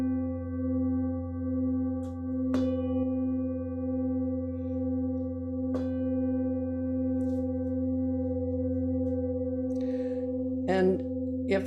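A hammered singing bowl rings with a steady, sustained hum and clear overtones that barely fade. A few light taps and clicks land on top, and a brief rattle comes near the end.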